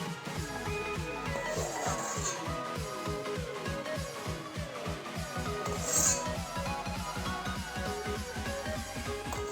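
Foam is skimmed off boiling homemade black mulberry molasses with a utensil, making quick, rhythmic scraping strokes that repeat steadily and close by over a bubbling background.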